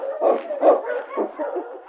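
Huskies in an old-time Yukon radio drama, a few soft, muffled barks and yips coming in bursts at moderate distance, lo-fi and without talk.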